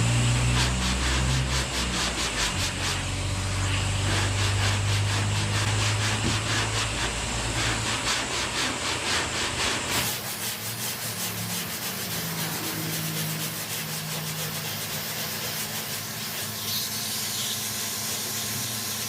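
Close, steady hissing of guide coat being sprayed onto a bondo-filled car fender, followed by continuous rhythmic rubbing as the fender is block sanded, with no voices.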